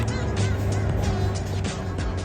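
A black Corvette at a city traffic light revs its engine and pulls away on the green, a throaty, rising motor roar close by with fluctuating revs over steady street background.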